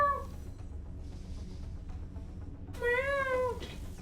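A cat meows twice in an XCOM: Enemy Within Long War game, each call a clear rising-then-falling tone. The first is short and the second is longer and louder, heard alone over a steady low game hum.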